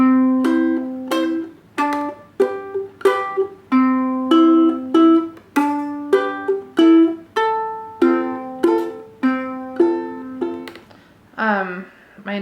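A ukulele played with a 3-2-1 picking pattern on a hymn, plucked notes falling in repeated groups with a steady, unhurried rhythm, close and clear, ending with a brief scrape across the strings.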